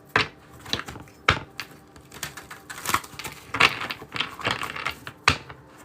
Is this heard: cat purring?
no